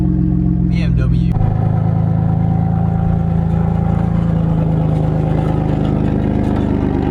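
A loud BMW car engine drones steadily at a constant pitch after a brief change near the start, staying close and dominant throughout with a voice faintly present.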